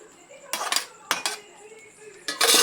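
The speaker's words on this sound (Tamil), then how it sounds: "ஒரு பாத்திரம் போட்டு மூடிடுங்க" Metal cooking vessels clank as a pot of semiya is covered with another vessel in a home kitchen: three or four sharp bursts of clattering metal, close and fairly loud, with a quiet background between them.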